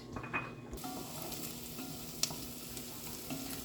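Chopped onion sautés in a pan with a faint, continuous sizzle close by. One sharp utensil clack rises briefly above the steady frying.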